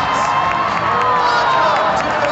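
A loud crowd cheers and shouts continuously at a car racing event, a dense roar of many voices held steady throughout the short moment.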